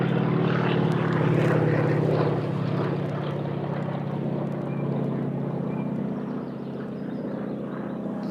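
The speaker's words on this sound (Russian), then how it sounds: "Сейчас самолет вам покажу." A propeller airplane drones overhead with a steady, loud engine hum and whirring prop tone that slowly fades as it passes, with no voices.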